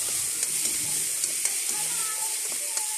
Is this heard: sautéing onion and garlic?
yes